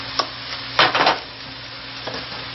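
A burger stirred in a frying pan with garlic, a couple of short scraping stirs over a low steady sizzle, no talk.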